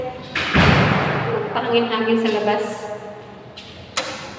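A heavy door at a 7-Eleven convenience store is opened with a dull thud near the start. Someone talks over the following seconds, and a second short knock comes near the end.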